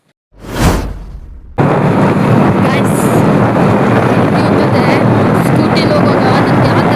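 Riding a scooter on a road journey, steady rushing wind buffets the microphone with a continuous roar, loud and close throughout after a brief burst at the start.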